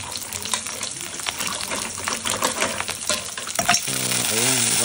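Thai basil and mushrooms stir-fried in a pan for a mussel, shrimp and mushroom dish, with sizzling and stirring scrapes close up, a brief watery rush near the end.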